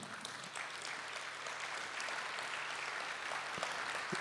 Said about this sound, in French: que je vous demande d'accueillir et d'applaudir